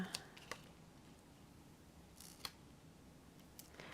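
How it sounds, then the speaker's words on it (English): Scissors snip through foam tape during a watercolor crafting session, giving a few faint, quiet clicks and snips spread across a low background hush, with no talking. "use scissors to cut the foam tape"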